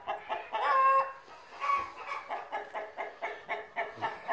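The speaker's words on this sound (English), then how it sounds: "Here's the old rooster in there." An old farmyard rooster clucking in a steady run of short, repeated calls, close and fairly loud, with a couple of longer drawn-out notes near the start.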